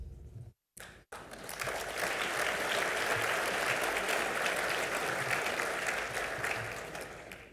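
A luncheon audience breaks into loud, sustained applause after a brief pause, the clapping filling the room steadily and then tapering slightly toward the end.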